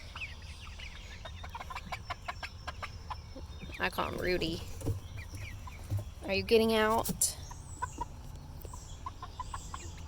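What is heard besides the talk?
chickens clucking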